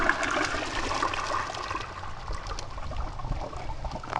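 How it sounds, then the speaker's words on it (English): A double-flush toilet bought at a garage sale flushes with steady, close rushing and gurgling water throughout. "that was a great flush"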